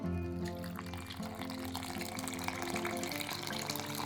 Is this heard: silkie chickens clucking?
no